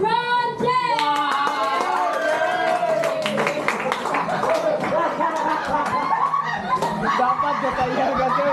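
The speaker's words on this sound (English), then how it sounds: "let us give a thunderous round of applause to the unforgettable megastar, LeBron James" A crowd breaks into a round of applause for LeBron James, with clapping and scattered laughter running throughout beneath a talking voice.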